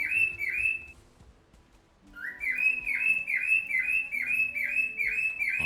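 Valheim's plains birdsong: a rapid run of high, evenly spaced chirps breaks off, falls silent for a moment, then resumes as a longer steady series, loud and alone.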